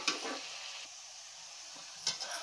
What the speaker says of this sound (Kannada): ಹೀಗೆ ಒಂದು ಕಡೆಯಿಂದ ಇನ್ನೊಂದು ಕಡೆ ಈ ರೀತಿಯಾಗಿ ನಾವು ಉಲ್ಟಾ ಮಾಡಿಕೊಂಡು ನಾವು ಫ್ರೈ ಮಾಡ್ಕೊಬೇಕಾಗುತ್ತೆ